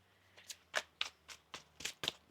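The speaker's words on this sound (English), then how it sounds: "One more shuffle." Tarot cards are shuffled by hand in a quiet room, a series of about seven short crisp riffling bursts coming in a steady rhythm, close and soft.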